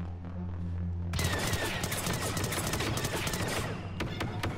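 Gunshots in an arcade-style video game, a dense, continuous barrage of rapid shots starting suddenly over a low background hum and continuing to the end, with a few sharper cracks near the close.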